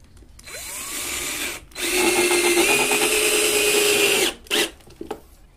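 Power drill driving a screw into a wooden workbench, a steady loud whirring run with a brief burst at the start, then a short final pulse as the screw seats.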